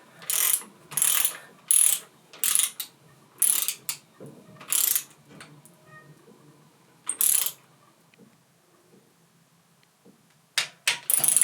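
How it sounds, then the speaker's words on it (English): Torque wrench tightening a bolt on mountain bike double crown forks during a headset bearing job, a series of sharp ratcheting clicks in bursts with short quiet gaps, close and fairly loud, no voices. "I'm using my torque wrench at the moment to do that"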